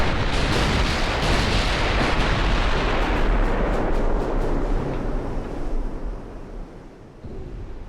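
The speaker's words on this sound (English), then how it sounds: "Oh, I just had a torpedo hit." In the Ultimate Admiral: Dreadnoughts naval game, a torpedo strikes a ship with a loud, sustained roaring blast and a surging, surf-like rumble that slowly fades.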